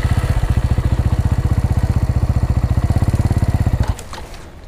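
Motorcycle engine pulsing steadily and loudly close by as the bike pulls away from a stop with the clutch being let out, its rapid regular firing continuing for about four seconds before cutting off abruptly into quieter background.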